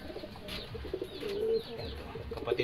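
Racing pigeons coo softly in a loft, with several low throaty coos scattered across the moment against faint background rustling.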